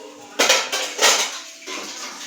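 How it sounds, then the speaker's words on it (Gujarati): Metal dishes and utensils clank and clatter against each other up close, a few loud knocks followed by softer scraping. "મમ્મી અહીંયા વાસણ ધોવા બેસી ગયા છે"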